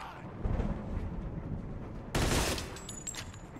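Gunfire in the video game Mafia 2, a burst of shots with a loud sharp volley partway through over a steady background din, no talk.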